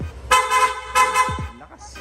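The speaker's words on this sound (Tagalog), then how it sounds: "pa-activate naman ng loud horn" Loud aftermarket PIAA horn on a Yamaha Nmax motorcycle honking in two strong blasts, harsh and buzzy, close by, followed by a brief lower tail.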